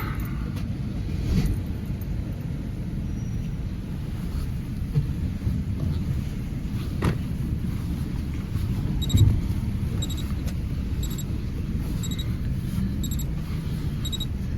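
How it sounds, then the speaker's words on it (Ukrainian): An Opel Vectra C runs after a steering angle sensor replacement, giving a steady low engine rumble close by with a few faint clicks and knocks. "Ще раз заводимо машину і перевіряємо."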